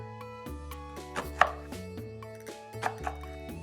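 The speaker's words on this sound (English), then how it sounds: "You're going to want to chop these about 1/8 of an inch thick and discard the ends." Leeks being chopped with a knife on a cutting board, a steady run of close, crisp chopping strikes heard alone over a soft background tone.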